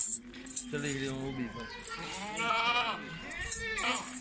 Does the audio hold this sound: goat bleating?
yes